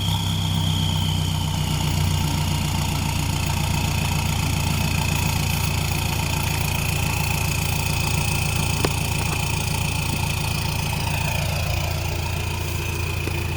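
A lifted Roxor side-by-side with an RXR performance tune idles steadily after a cold start from sitting two weeks, a continuous low engine rumble with a faint turbo whine above it, close and alone.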